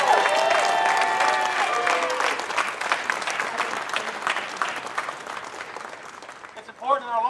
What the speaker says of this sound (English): let's give a round of applause for the Capitol Police